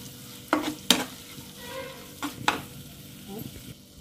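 Brinjal curry with salt and chilli powder is stirred in a pan, heard as a couple of pairs of close scraping spoon strokes over a faint low sizzle.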